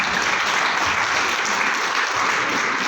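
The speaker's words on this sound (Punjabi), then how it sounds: "ਉਹਨਾਂ ਦੇ ਨਾਮ ਤੇ ਤਾੜੀਆਂ ਮਾਰਨੀਆਂ ਬਣਦੀਆਂ" Steady, dense clapping from an audience at a stage event, continuous and fairly loud throughout with no break and no talk over it.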